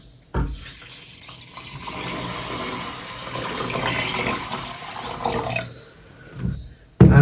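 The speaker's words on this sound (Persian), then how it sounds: "حالا آبم بهش اضافه میکنیم." Water pours steadily from a tap into a pot of soaked lentils, a continuous close splashing gush that runs for several seconds before stopping, with a couple of short clunks at the end.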